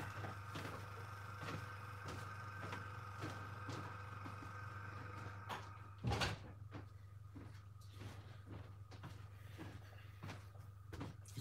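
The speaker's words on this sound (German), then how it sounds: "Ich muss mal die Tür zumachen," A door is pushed shut in a hobby room where an airbrush compressor hums loudly. One sharp thud rises briefly above the steady drone, surrounded by small clicks and handling noises.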